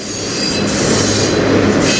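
CN freight train cars roll past close and loud, a dense rumbling roar with squealing wheels and faint rhythmic clatter, steady throughout.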